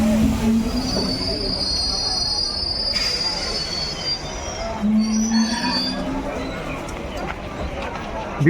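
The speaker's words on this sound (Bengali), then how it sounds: "এই মুহূর্তে মেমু ট্রেন ঢুকছে" A MEMU local train pulls into Masagram railway station platform, its wheels squealing in long high tones over a constant rumble, with a crowd talking nearby.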